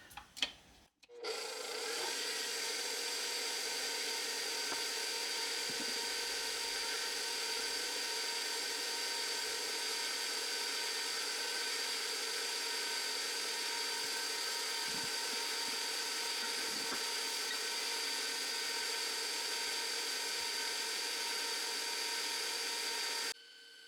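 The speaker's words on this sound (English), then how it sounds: "Now we're just going to whisk this until it turns light and fluffy and white." Electric mixer whirs continuously as it whisks an egg mixture with salt and vanilla, a steady close motor hum and beater rattle lasting over twenty seconds after a short clatter at the start, with no talking.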